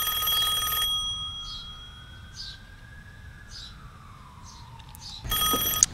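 A ringback tone plays during an outgoing cell phone call. A buzzy electronic ring comes at the start and again near the end, with a quiet gap between. Faint chirps and a thin gliding tone sound in the gap.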